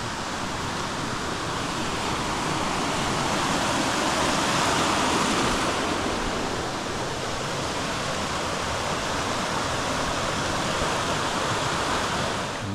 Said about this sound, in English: There's plenty of water coming down.